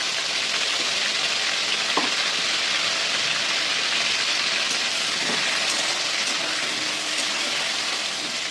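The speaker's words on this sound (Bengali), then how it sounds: "লবণ হলুদটা দিয়ে পটল কটা ভেজে নেবো" Pointed gourd (potol) pieces seasoned with salt and turmeric fry in hot oil, a continuous, fairly loud, even sizzle with a few faint clinks of stirring and no talking.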